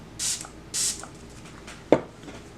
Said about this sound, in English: I'm going to grab my MAC Prep and Prime Fix Plus just to spray right on the brush.